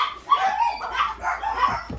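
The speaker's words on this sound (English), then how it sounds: "my doggies are barking because my husband's outside" Several dogs barking and yipping at home, a string of sharp, mid-distance barks in an irregular rhythm with some whimpering between them.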